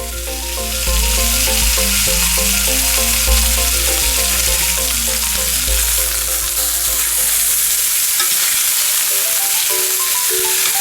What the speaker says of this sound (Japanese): ここで肉の全面を30秒から60秒ずつ焼いていきます。